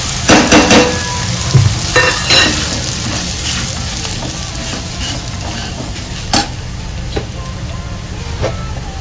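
Roasted semolina and peanuts sautéed in a pan, with a spoon scraping and knocking in uneven strokes over a soft background hiss, louder in the first few seconds and then settling into quieter stirring with a few sharp clicks.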